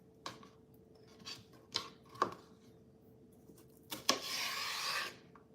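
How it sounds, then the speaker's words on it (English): A knife slicing raw celery on a cutting board, with faint crisp cuts and board taps spaced out over a few seconds, then a longer rasping slice near the end, all quiet and close. "Let's cut the celery."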